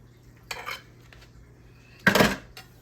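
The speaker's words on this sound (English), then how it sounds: "Cut it as thin as I can here." A knife works through cooked corned beef on a board in a home kitchen, giving two short scraping, clattering bursts, the second louder and closer.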